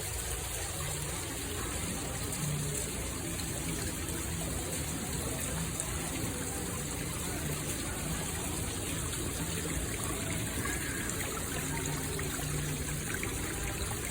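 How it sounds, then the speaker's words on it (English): A small waterfall in a grotto on Kauai gives a steady, broad rush of falling water that holds at an even level throughout, with no voices over it. "So we got this nice little waterfall"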